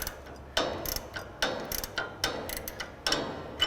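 A wrench ratchets on the adjustment bolt of a MacDon FD2 FlexDraper header: several short bursts of clicking close by, separated by brief pauses, with no voices.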